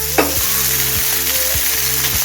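Whole fish, locally called nijna, loti or ruli, sizzles loudly in hot oil as it is turned in the pan, with a spatula tapping and scraping in a steady rhythm over continuous frying crackle.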